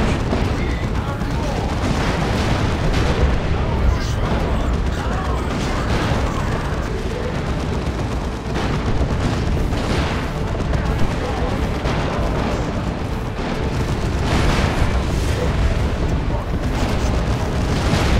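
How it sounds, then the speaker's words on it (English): Long-range cannon fire from a Leman Russ tank in the strategy game Dawn of War II, a dense, continuous battle din of booms and gunfire rolling steadily throughout, with constant combat noise layered over it. "the Leman Russ is still just taking shots at long range"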